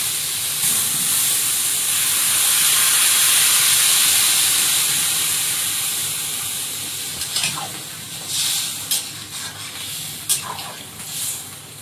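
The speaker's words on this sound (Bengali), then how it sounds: "ঝোলটা ভালো করে ভেজে নিয়েছি, এবার এর মধ্যে জল দিয়ে দেবো।" Water poured into a pan of hot fried curry gravy with bottle gourd bursts into loud, sustained hissing steam that swells for several seconds, then tapers off into intermittent sputtering crackles.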